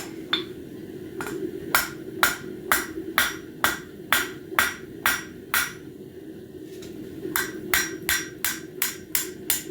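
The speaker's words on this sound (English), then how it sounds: "So with just those little hammer hits, we were able to take the corners off." Steady ringing hammer strikes on a real anvil while rounding the corners off a small piece of metal at a forge, about a dozen evenly spaced loud clangs, a short pause, then another quick run of blows.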